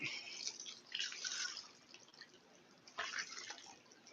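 An old, grimy aquarium sponge filter is rinsed under water, heard as faint, uneven splashes and drips in short bursts with quiet gaps between.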